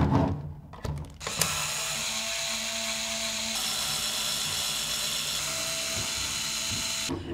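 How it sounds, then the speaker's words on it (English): A small electric screwdriver unscrews a Nerf gun, a close, steady high-pitched whirring drone that starts after a few brief clicks and knocks and holds for several seconds before cutting off. "first, like any modification, you need to unscrew the gun."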